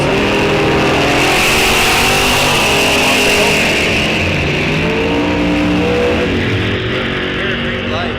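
A bright yellow Chevy S10 and a Corvette launch side by side in a drag race at Rock Falls Raceway, engines revving loud and close, with a voice talking over the noise.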